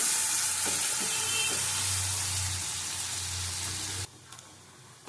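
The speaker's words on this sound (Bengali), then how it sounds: "ভালো করে ভেজে দেবো।" Rui and katla fish frying in oil, a dense, loud sizzle with a low bubbling hum that runs for about four seconds, then cuts off abruptly to near silence with a faint knock.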